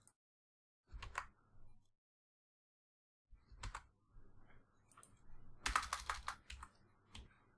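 Keys clatter on a computer keyboard in short bursts of typing separated by pauses, close and fairly quiet, while Python code is edited and lines are commented out.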